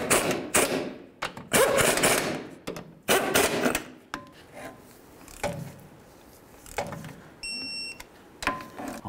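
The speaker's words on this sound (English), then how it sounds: "With them all started, let's go ahead and snug them up, then we'll torque them to 56 foot-pounds." Steering box bolts being snugged into the frame of a 1994-2004 Chevy S-10 pickup, heard as a run of loud, close metallic clunks and thuds with ratcheting and a short electronic beep.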